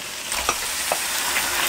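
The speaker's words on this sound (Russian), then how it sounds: "и яростно мешая, жарим тоже очень быстро" Squid and vegetables hissing and sizzling in a hot pan as they are stirred fast, a bright close fry with a few quick scraping stir strokes standing out.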